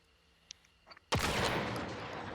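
A single shotgun slug blast in a video game, fired near a wall: a sudden loud boom after a second of quiet small clicks, its ringing tail fading slowly to the end.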